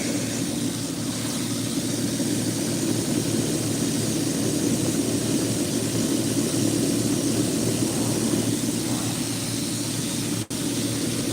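A polishing machine runs steadily on .925 silver, a loud continuous whirring drone that stays even throughout, with a brief dip near the end.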